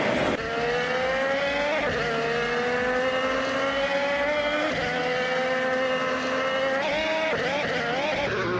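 Chevrolet IndyCar race cars drive past at racing speed, a loud, sustained high-pitched engine whine that climbs and drops with gear shifts, close and continuous, with wind buffeting throughout.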